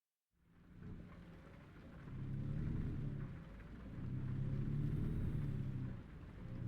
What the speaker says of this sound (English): it does seem like the rain is clearing up a bit